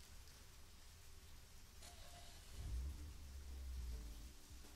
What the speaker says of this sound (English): Oh, because it's raining, I see.